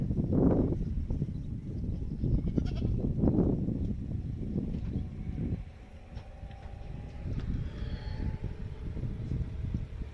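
Goats bleat in a farmyard, several wavering calls near and loud in the first seconds, then quieter answering cries further off.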